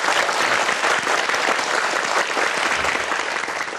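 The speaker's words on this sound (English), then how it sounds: "Please give him a round of applause." A studio audience gives a steady round of applause for Adam Khoo at the close of a talk show, dense even clapping at constant loudness throughout without voices.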